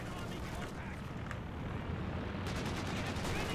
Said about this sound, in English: Let's get MG42 trading shots here in the center